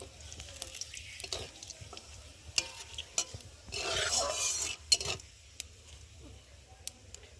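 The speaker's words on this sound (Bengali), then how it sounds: "ঘিটা গরম হয়ে গেছে এখন আমি তেজপাতা দেব দেবো গোটা জিরে আর দেবো একটা শুকনো লঙ্কা দিয়ে ফোড়নটা একটু ভালো করে ভেজে নেবো" Bay leaf, whole cumin and a dried red chili tempering in hot ghee make a quiet, close sizzle with light scraping and stirring, which swells briefly into a louder hiss midway through.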